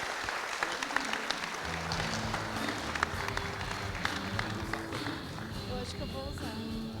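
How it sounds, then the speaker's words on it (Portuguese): Audience at a positioning lecture in Porto Alegre breaks into sustained, dense applause to welcome speaker Fê Albuquerque, a steady wash of many hands with voices mixed in underneath. "Vamos recebê-la aplaudindo."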